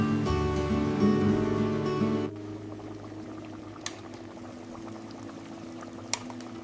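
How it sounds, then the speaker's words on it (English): Seasoned broth bubbles and roils steadily in a pot, with a louder pouring or hissing layer at first, then a calmer continuous rapid boil with a couple of small clinks. "Our seasoned broth is now boiling rapidly and smells absolutely incredible."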